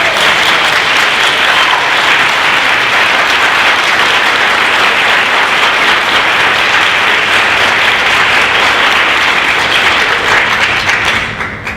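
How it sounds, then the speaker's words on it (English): Sustained audience round of applause at a conference session on organizational racial justice, a dense, loud wash of clapping lasting over ten seconds before tapering off at the end. "So if we can give a big round of applause."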